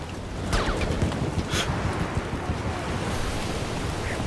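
Gusting wind in the World War I shooter Battlefield 1, a steady, loud broadband rush with swelling surges and a few brief sharp swishes, heard alone without voices.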